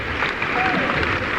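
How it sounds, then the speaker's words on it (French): An audience applauds after a wedding blessing at a Christian gathering, a steady wash of clapping that holds evenly throughout while a voice talks over it. "On vous applaudit très très fort."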